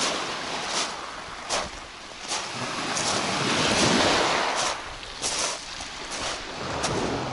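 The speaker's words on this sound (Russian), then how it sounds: "уже волны чуть-чуть побольше" Ocean waves of the Black Sea at Solnechnogorskoye, Crimea, wash in and out repeatedly, a broad rushing surf that swells and recedes, with light wind buffeting the microphone.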